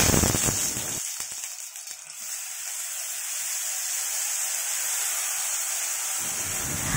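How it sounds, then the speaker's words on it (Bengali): Green chilli and black cumin frying in mustard oil give a steady, loud sizzle and crackle that holds at an even level from start to finish, with no voices. "আর এইবার আমি তেলে ভেজে নেব।"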